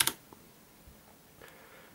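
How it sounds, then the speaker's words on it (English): Typing on a Das Keyboard Model S with Cherry MX Blue switches: a sharp, bright double click at the start, then a few faint scattered key taps in a quiet room. "And let's do a typing test."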